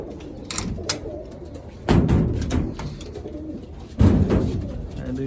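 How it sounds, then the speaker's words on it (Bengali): Pigeons coo steadily in low, soft murmurs, with two louder broadband thumps, like wing flaps or a knock, rising from the flock's background sound. "এটি সব পায়রা।"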